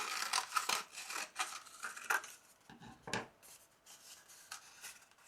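Scissors snip and rustle through a small hand-rolled paper funnel for beading, a run of close, quiet crisp cuts and paper rubs, irregular and unhurried, with no voices.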